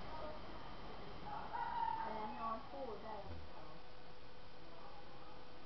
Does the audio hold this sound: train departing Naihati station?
no